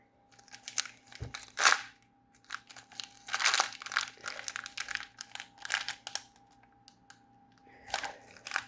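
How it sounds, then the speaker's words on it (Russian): A plastic packet from an animal toy set being torn open, with repeated close crinkling and crunching bursts and short pauses between them, quiet and with no talk. "открываем этот пакетик"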